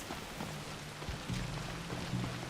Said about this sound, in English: It's raining for the dramatic effect.